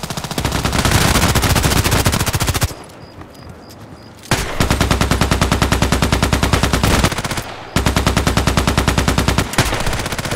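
Rapid automatic gunfire in the shooter game Contract Wars rattles out in loud sustained bursts, with a short pause between volleys and an abrupt restart, no voices over it.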